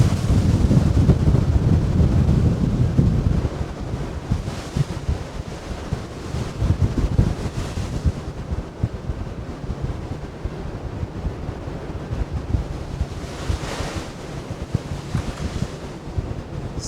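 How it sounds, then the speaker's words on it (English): Atlantic Ocean waves crash and roll beneath the MSC Meraviglia cruise ship at sea, a continuous heavy rushing wash with wind buffeting the microphone, loudest at first and then steady. "We got some pretty fearsome waves out here."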